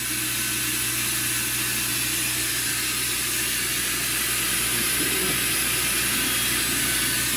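An engine idling steadily after dropping to about 1,000 RPM, a constant low hum with a mechanical whine, close and unbroken throughout.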